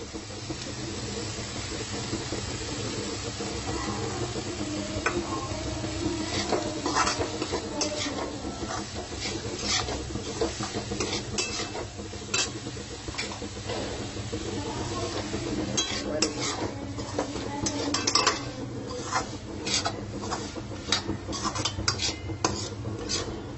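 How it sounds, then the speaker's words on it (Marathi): Jaggery and coconut are stirred in a pan for modak filling: a steady run of metal spoon scrapes, clinks and soft hissing, close and fairly quiet, continuing throughout with no talk. "गूळ आपला थोडासा मऊसर झालेला आहे, तर आपण यामध्ये आता खोबरे टाकूया"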